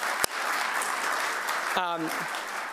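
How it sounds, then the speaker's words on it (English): An audience claps continuously at a groundbreaking ceremony, a sharp knock near the start, and a voice briefly cuts in partway through. "I'm giving you a round of applause."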